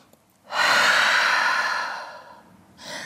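A deep breath taken during a dynamic yoga flow in downward-facing dog: a long, loud breathy exhale that fades gradually, followed by the start of another breath, with no talking.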